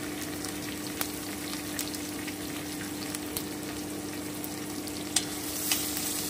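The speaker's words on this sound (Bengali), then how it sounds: "আমি সামান্য একটু ভেজে নিচ্ছি" Spinach with turmeric fries in a pan, a steady hiss with faint scraping stirs now and then, close and even throughout with no talking.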